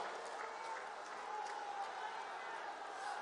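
Applause from a crowd at an Indian political rally, a steady wash of clapping that holds at an even level throughout without any breaks.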